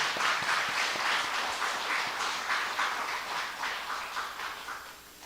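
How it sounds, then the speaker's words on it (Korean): A church congregation at a Sunday worship service applauds the worship team with brisk, moderately loud clapping that gradually tapers off. "우리에게 은혜를 끼친 우리 찬양팀에게 다시 한번 박수를 격려합시다"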